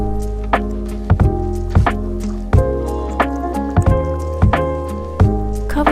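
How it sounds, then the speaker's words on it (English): Chili crab sauce with fish stock is stirred in a pan over medium-low heat, giving repeated wet squishing scrapes every half second or so over steady background music. "Keep stirring to avoid burning."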